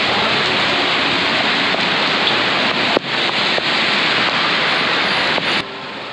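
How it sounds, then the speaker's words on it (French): Heavy tropical downpour in Kuala Lumpur, a loud, dense, steady hiss of rain pouring down close by and continuing throughout, with no talking. "On va pas pouvoir éviter la pluie, maman."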